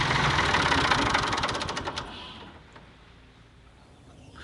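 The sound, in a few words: old engine running after 12 years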